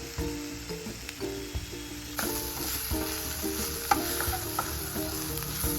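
A spiced potato mixture sautés in a pan, a soft continuous sizzle with scraping and clicking stir strokes, close by, with a faint tonal melody running beneath.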